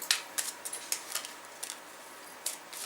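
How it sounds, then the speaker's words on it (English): Sentinels of the Multiverse playing cards being shuffled by hand, a string of quick, soft riffling snaps and ticks, close by and fairly quiet, with no talking. "it's just a quick shuffle"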